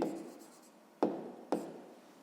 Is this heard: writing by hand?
yes